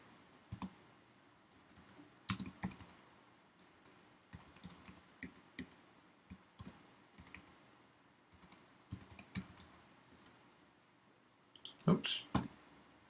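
Keys clatter on a computer keyboard in irregular bursts while a street address is typed in, close and fairly soft, with a louder cluster of strokes near the end.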